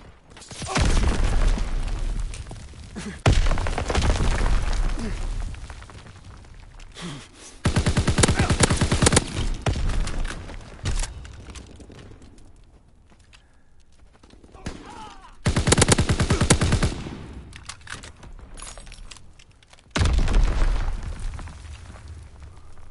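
Gunfire in the video game Call of Duty: WWII comes in repeated loud bursts of rapid automatic shots and booms, separated by quieter stretches of background game noise.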